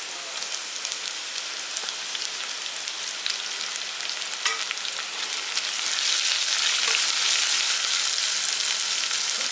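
Onion, garlic and green chillies fry in a pan with a dense, continuous crackling sizzle that swells louder in the second half, heard alone without voices.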